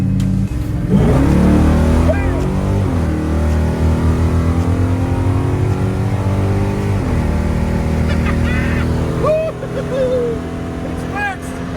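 Car accelerating on a test drive up the road, engine revving loud and close with rising then falling pitch through several gear changes, continuous throughout with brief chatter under the engine noise.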